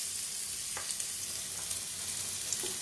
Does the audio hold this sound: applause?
no